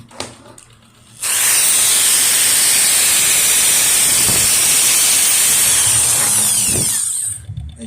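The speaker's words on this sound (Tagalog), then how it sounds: "Ito po yung barena." An electric drill switched on after a short pause, whirring loudly and steadily at high speed for about six seconds before winding down, with faint background noise around it.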